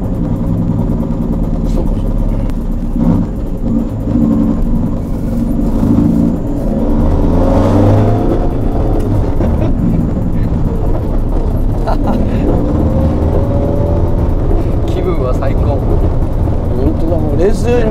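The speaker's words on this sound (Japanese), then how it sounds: "大体聞こえるのはマフラーの音じゃない。" Simulated exhaust sound from an electric AE86 converted to battery power, a loud steady engine-like rumble with revving swells, while people talk over it throughout.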